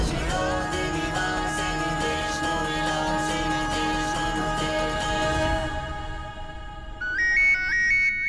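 A phone rings with an incoming call, a loud melodic ringtone with sustained tonal notes under a dramatic backing, then a brief rising electronic tone pattern near the end.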